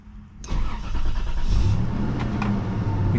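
A third-generation Toyota 4Runner engine cranks and catches, then settles into a steady, fairly loud idle that holds to the end, with a faint click or two.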